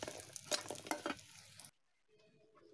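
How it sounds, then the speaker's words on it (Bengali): Pumpkin bori, sun-dried lentil dumplings, frying in a pan over a village clay stove, with a loud crackling sizzle and stirring for a second and a half before it cuts abruptly to near silence. "কুমড়ো বড়িটা ভাজবো।"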